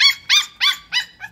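Puppies at a kennel yipping and howling in five close, loud, rising-and-falling cries spaced evenly, each higher-pitched and whiny, the last one shorter and fainter.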